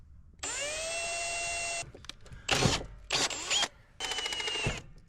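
A power drill whirs in several bursts while drilling a hole in an electrical panel for a generator interlock kit: one long steady run, then shorter spurts with brief pauses between, close and fairly loud.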